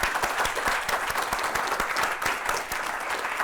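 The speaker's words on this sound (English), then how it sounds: "Let's give Tracy one final huge round of applause." An audience at the end of a talk about founding a startup claps in dense, sustained applause, steady and fairly close throughout.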